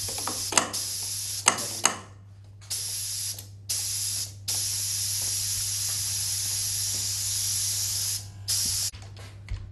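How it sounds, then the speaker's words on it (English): Pneumatic double-acting cylinder driven through a hand slide valve: loud bursts of compressed-air hiss and exhaust, several short sharp blasts then longer sustained venting, with clicking valve and cylinder movements over a steady low hum. "Finally it will actuate the double acting cylinder."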